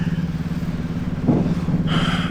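Road traffic in Indonesia with motorcycles and cars, a steady low engine drone near and continuous, briefly swelling as a vehicle passes close, with a higher whine entering near the end.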